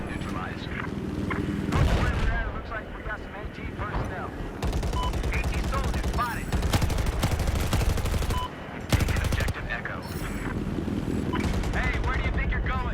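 Rapid bursts of automatic gunfire and heavier explosive reports in a military shooter video game, loud and nearly continuous with brief gaps, with faint voice chatter mixed underneath.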